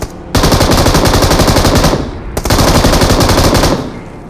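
Sustained automatic gunfire in the BGMI mobile battle royale game, two long close-range bursts of rapid shots separated by a brief pause, loud and dense with no talking.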